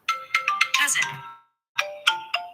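A mobile phone ringtone plays a bright, repeating electronic melody of quick chiming notes. It stops briefly, then starts again, close and clear with no talk.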